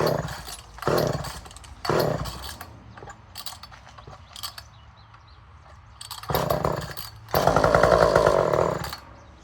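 A Poulan 1800 chainsaw on half choke fires in short sputtering bursts, revving briefly and dying between attempts, with a longer, louder rattling run near the end.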